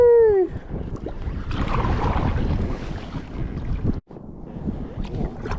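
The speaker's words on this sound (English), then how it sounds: "The wind is blowing me backwards" Wind gusting across a kayak out on the Tennessee River, a loud continuous rushing roar buffeting the microphone, briefly cutting out before resuming.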